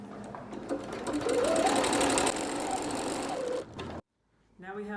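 A sewing machine runs steadily while stitching a seam in stretch fabric for a headwrap, a fast, continuous mechanical whir lasting several seconds. It stops abruptly, then a voice starts speaking after a short silence.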